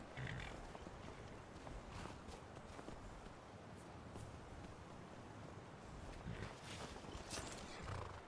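A horse in Skyrim moves with soft hoof clip-clops and snorts over a dense, noisy game soundscape, with occasional louder hoof or neigh bursts throughout, no talking.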